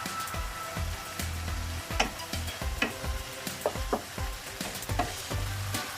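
Ilocano igado, a pork-and-liver dish, is stirred in a sizzling pan, with steady frying crackle and repeated spoon scrapes and knocks against the pan at close range; no talking.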